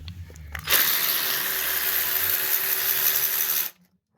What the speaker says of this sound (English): So we're going to go ahead and loosen this bolt.